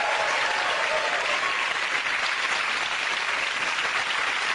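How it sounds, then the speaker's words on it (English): A studio audience at a quiz show bursts into steady, dense applause that holds at an even level throughout, with no talk over it. "Give a round of applause."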